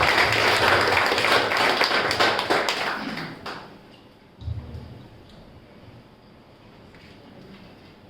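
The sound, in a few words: applause for the family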